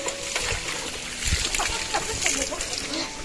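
Children splashing and playing in cold water flowing from a spring, irregular splashes and sloshing close by, mixed with excited voices talking and calling out.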